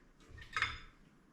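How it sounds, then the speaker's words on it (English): A spoon is set down on a kitchen counter beside a pot of pineapple chicken, giving one faint, brief clink of metal against a hard surface in a quiet room. "I'm just going to set my spoon down here."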